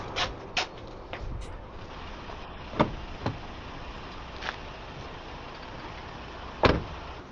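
A door is shut and secured during an eviction, heard as several sharp thuds and clicks spaced unevenly over a quiet room tone.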